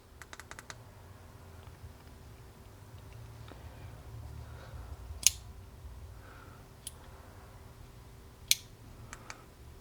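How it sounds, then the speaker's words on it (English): The tail switch of a Wuben X1 Pro flashlight is clicked, sharp, close, quiet clicks in a quick cluster at the start, then a few scattered single clicks over a low background hum. "if you triple click, you will get the strobe effect"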